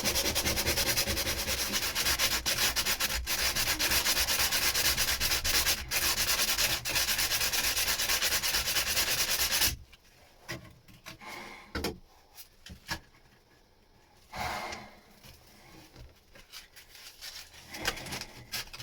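Sanding on the underside of a boat deck makes a loud continuous scratchy rasp for about ten seconds, then drops to quiet bursts of rubbing and handling knocks, close up with no voices.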